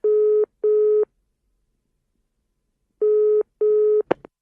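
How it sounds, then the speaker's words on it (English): A telephone ringback tone sounds while calling an office line: two pairs of short steady beeps separated by a pause, loud and clean, ending with a brief click. "It's ringing for you now."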